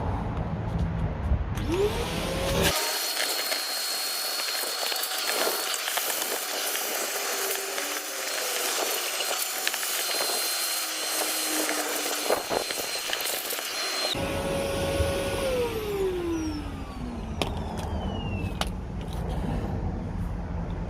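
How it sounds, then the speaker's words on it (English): A hoover runs over the parcel shelf of a BMW 5 Series E60, a loud sustained motor whine with shifting pitch as the nozzle moves and is briefly muffled, steady throughout with no talk. "Now we're going to go over it with the hoover and to get all the dust and everything else off."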